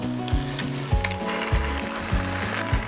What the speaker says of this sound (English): I'm going to carefully lay these in. Sizzle, sizzle